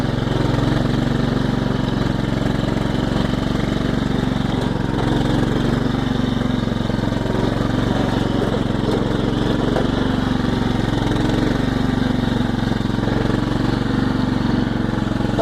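A small tractor's engine runs steadily and loud throughout, a constant low drone with no pauses and no talk over it.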